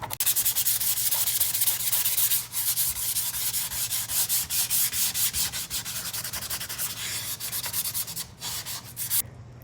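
Steady rubbing of sandpaper lightly distressing a painted home decor piece, close and continuous with rhythmic strokes throughout, no voices.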